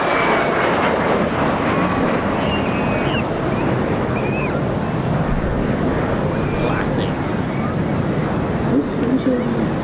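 De Havilland Vampire jet flying at the Eastbourne airshow, a steady loud broadband roar of engine noise mixed with wind and surf, continuous throughout with no clear rise or fall.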